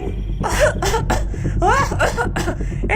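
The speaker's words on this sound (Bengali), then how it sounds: "ওপর থেকে শাকচুন্নির কাশির আওয়াজ ভেসে এলো।" A series of rough, raspy coughs and throaty wheezes comes in quick bursts, close and prominent, performed by a voice as a ghost's cough in an audio drama.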